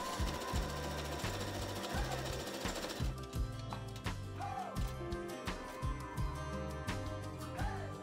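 A sewing machine runs in steady bursts, stitching a seam on overall fabric close up, its rapid mechanical needle rhythm pausing and restarting with no talk.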